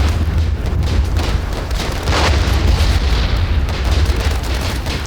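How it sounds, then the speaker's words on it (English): Mortar explosion in the video game Warfare, a loud deep rumbling boom with a rolling low roar that lingers for several seconds without talk. "one single mortar just kills them all"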